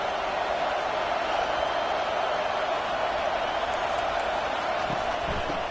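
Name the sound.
stadium crowd noise in NCAA 25 video game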